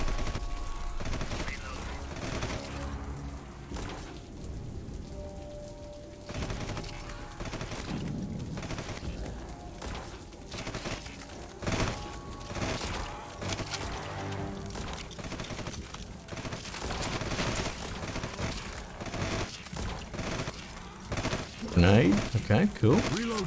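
Sustained rapid bursts from a gatling gun loaded with explosive ammunition in the sci-fi tactical game Red Solstice 2, crackling continuously amid battle noise, with people talking over it.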